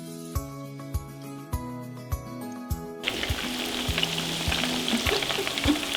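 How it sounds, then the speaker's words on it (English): Meatballs frying in a pan after being turned, a steady close hiss and crackle of sizzling oil, preceded by a few sharp clinks and taps of a utensil against the pan, with no voices. "We'll let them cook on the other side, and then we'll know for sure they'll be cooked through."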